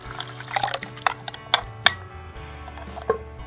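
Water trickles and splashes into a bowl of tangy spiced liquid with chaat masala for pani phulki, with a few distinct pours and drips standing out near and moderately loud.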